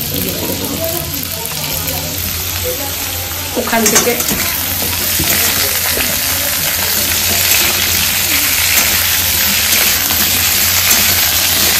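Potato, pumpkin and eggplant sizzling in a hot pan with a spatula stirring and scraping, a steady loud fry that swells after a few seconds, with brief talk near the start.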